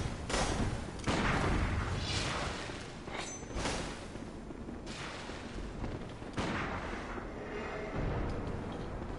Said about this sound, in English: he shoots 2 bullets